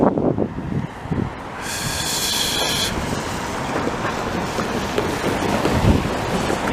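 A train rolls along the CN main line in Montreal's St-Henri borough, heard outdoors as a continuous rumbling roar with faint rail clatter, partly buffeted by wind on the microphone.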